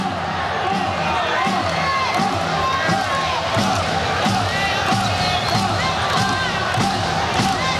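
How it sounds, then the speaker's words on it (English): Restless crowd noise fills an indoor arena during a college volleyball match between Hawaii and Arizona, a steady murmur with whistles and scattered shouts, running under continuous talk. "And now the crowd getting impatient."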